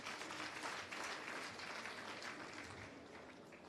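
An audience claps at the launch of a skills development centre, a steady wash of applause that is faint and distant throughout.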